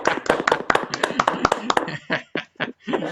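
Only a few people clap at a small talk on psychology through art and humor, with sparse, distinct hand claps in an irregular run that thins into separate bursts.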